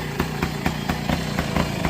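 A 1968 Benelli Leoncino Scrambler 125cc motorcycle runs with its original exhaust, its single engine popping in a quick, even pulse at close range, with no voices.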